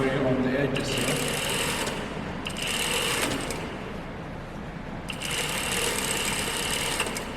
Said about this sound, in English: I'm sewing all the way on the edges here.